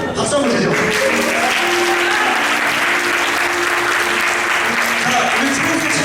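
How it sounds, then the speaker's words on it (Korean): A youth camp crowd gathered in a church-style hall breaks into loud, continuous applause after an auction-style game, dense clapping filling the room with a few voices faintly underneath. "박수 한번 주죠."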